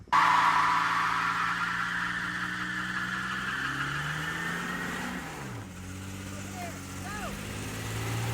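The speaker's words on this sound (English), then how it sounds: "How long does it take to roast the tires off a V6 Tundra?" A V6 Toyota Tundra pickup revs hard while roasting its tires, a loud rising engine roar that sweeps upward, dips, then surges again with squealing tire tones near the end.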